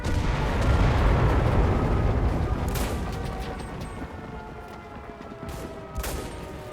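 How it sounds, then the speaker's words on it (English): Gunfire and heavy cannon booms in a tank video game on a quarry map, a dense rumbling barrage that slowly fades before a few sharper shots near the end. "I'm kind of like guessing where I'm firing, so a lot of times I will just miss a ton of rounds."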